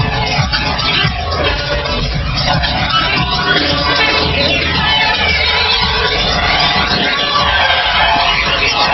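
Boxing arena crowd at an Evander Holyfield versus John Ruiz fight, a steady dense roar of cheering and chatter that holds loud and unbroken throughout.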